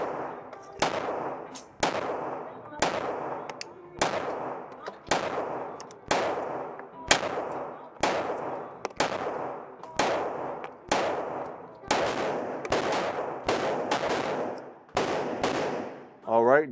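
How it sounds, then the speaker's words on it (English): Fifteen shots from a new Glock pistol fired at a target 10 yards away, sharp, loud cracks spaced about one second apart in a steady rhythm, each followed by a brief ringing decay. "I'm gonna do 15 shots, aiming for the bottom left target."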